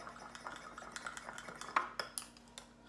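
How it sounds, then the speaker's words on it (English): A whisk beats an egg in a small bowl, giving a quiet, fairly quick run of light clinks and taps against the bowl that grow slightly sharper toward the end. "I'm going to take a whisk and just whisk it"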